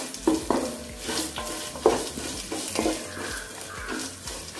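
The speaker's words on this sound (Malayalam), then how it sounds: "ഇഞ്ചി നന്നായിട്ട് തന്നെ വഴറ്റി കൊടുക്കാം." Ginger sizzles in hot oil while a utensil stirs and scrapes it around a pan for a pickle of bilimbi fruit, with close, repeated clinks and scrapes over a steady frying hiss.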